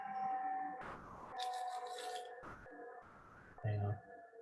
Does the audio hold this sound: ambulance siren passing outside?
yes